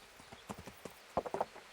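Horse hooves clip-clop in the medieval game Kingdom Come: Deliverance, a handful of faint, uneven hoof strikes that grow into a louder, quicker cluster near the end, with no talk.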